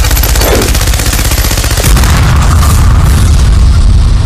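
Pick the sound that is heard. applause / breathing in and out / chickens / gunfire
gunfire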